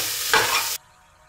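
Beans and carrots stir-fried in a pan for vegetable pulao: a short, loud burst of sizzling and stirring close by, which cuts off abruptly into quiet.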